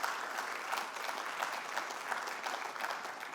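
A hall full of delegates at a Plaid Cymru annual party conference breaks into sustained, even clapping, a dense wash of applause with no voices over it.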